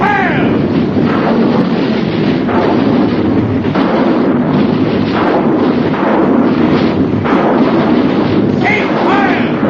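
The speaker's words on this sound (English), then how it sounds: "Artillery batteries, fire! Rocket batteries, fire!" Artillery and rocket batteries firing in an old radio drama, a dense, continuous roar of rumbling blasts and explosions that stays loud throughout, with voices faintly mixed in.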